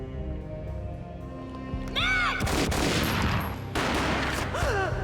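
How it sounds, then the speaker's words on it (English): Gunfire in the video game Max Payne, a loud burst of shots with booming reports and echoing tails, repeated after a short gap, with a voice heard briefly over the action. "A gunshot boomed and she fell down in slow motion."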